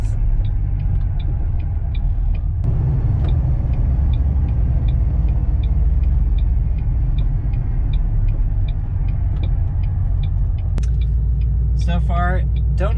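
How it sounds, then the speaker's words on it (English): A supercharged car with a 6R80 transmission and Prothane billet motor and transmission mounts rumbles along on the road, its driveline and transmission droning loudly and steadily, with a faint regular ticking and a voice near the end. "You really hear the transmission."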